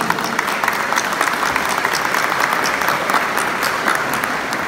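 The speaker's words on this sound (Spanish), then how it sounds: "pido un fuerte aplauso una vez más" A crowd applauds the mayor at the opening of intermunicipal games, producing loud, dense, continuous clapping that holds steady from start to finish.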